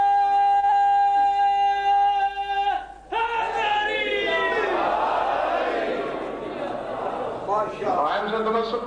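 Large crowd at a religious gathering chanting the Shia slogan Nara-e-Haidari, a loud massed roar of voices rising after a steady tone, sustained and swelling, with a lone voice leading.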